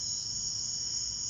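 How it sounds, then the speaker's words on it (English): A camel cricket at night gives a steady, continuous high-pitched chirring, close and loud, with no pauses and no voices. "Hello, cute little cricket."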